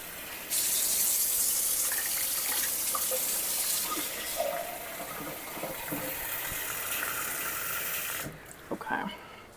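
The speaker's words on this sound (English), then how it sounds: "you want to keep filling it with water" Water runs steadily from a tap into a pot of simmering stock for a pressure canner, a continuous broadband gush that starts abruptly and cuts off near the end, followed by a few faint clinks.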